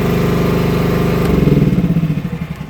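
A small gasoline engine on a cheap Chinese mini excavator runs steadily up close, then its throbbing grows louder and more uneven partway through, as if under load or revved, with no talk.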